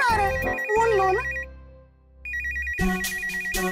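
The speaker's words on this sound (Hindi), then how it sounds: "फोन आ रहा है, फोन लो ना।" A telephone rings with a repeating electronic ringtone melody, fairly close and clear. It plays, pauses briefly in near silence, then starts again.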